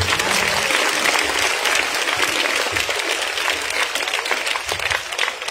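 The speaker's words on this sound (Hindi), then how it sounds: "मोहब्बत आप सीरत भाई और उनकी टीम से करते हैं, तालियों के जरिए बताइए कि आप कितनी मोहब्बत उनसे करते हैं।" Dense, steady applause from a large audience at a Cure Pakistan Welfare charity gala fills the whole stretch, loud and continuous with only slight swells and dips.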